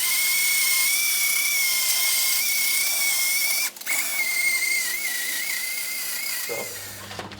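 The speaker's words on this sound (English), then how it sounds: "keep the drill kind of on a slower speed, and yeah, we'll start working into it." A power drill polishing a plastic headlight at slower speed whines steadily at a high pitch, close up, with a brief dip midway and a clunk near the end.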